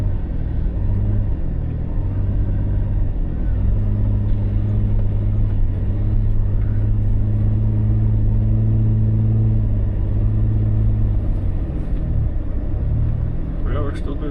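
A vehicle's tires spinning in deep snow, a loud steady engine rumble that holds at high revs for several seconds before dropping off, with a voice heard faintly.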